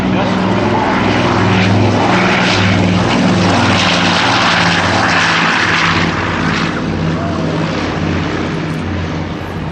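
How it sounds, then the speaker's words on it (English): A Douglas DC-4 four-engine propeller airliner roars loud and steady on its takeoff roll at an airshow, its propeller drone holding throughout with no talking. "the magnificent Douglas DC-4 on the takeoff roll"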